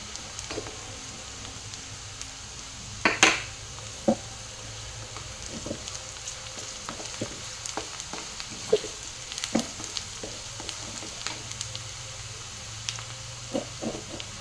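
Ginger garlic paste frying in a pan for dhaba-style paneer bhurji, with a soft continuous sizzle and scattered light clicks and taps of stirring throughout.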